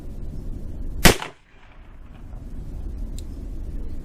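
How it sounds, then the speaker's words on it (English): A single sharp .40 S&W gunshot from a 6-inch Blackhawk revolver fired outdoors across a chronograph, loud and close, with a short rumbling tail fading into steady wind noise. "that's 5 shots across the chronograph"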